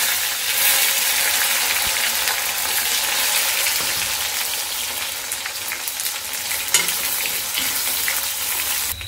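Onions sizzle and fry over low heat in a pan for a traditional Nepali dish, a steady close crackling hiss throughout with occasional stirring clatter, no talk.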